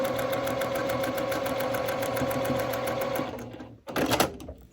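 A sewing machine runs steadily, stitching pieces of a sawtooth star quilt block, with a continuous close whirring hum that stops abruptly near the end, followed by a brief handling sound.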